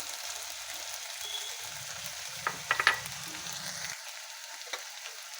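Spiced masala paste sautéing in oil for a bitter gourd and fish curry, a steady soft sizzle with a few sharper stirring scrapes and crackles in the middle, close and fairly quiet.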